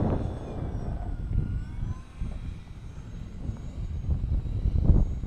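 An electric-motor Hobby King Cherokee RC model airplane flies nearby with a throttle that keeps cutting out, its motor drone wavering and surging under a rough wind-buffeted rumble, no voices.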